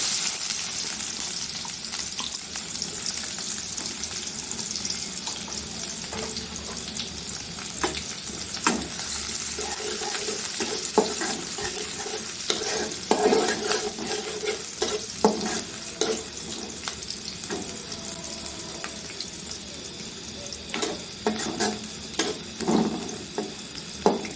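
Onions sizzling in hot oil with tempering spices, a steady broadband frying hiss running throughout with occasional sharper crackles and stirring clicks, close and fairly loud, no voices.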